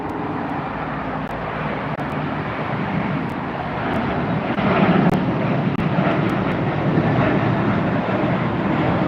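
China Airlines cargo airplane at LAX, a steady broadband jet engine roar that swells in the middle and holds loud, heard at a distance with no talking.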